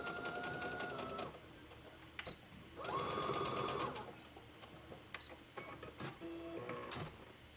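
A sewing machine runs in short bursts of rapid mechanical whirring and clicking while backstitching the collar seam of a T-shirt dress, with brief pauses between runs, close and fairly quiet, with no talking.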